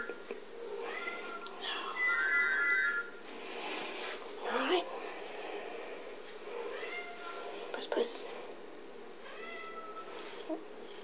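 A cat meows several times, short close cries scattered through the clip, while a person talks softly nearby.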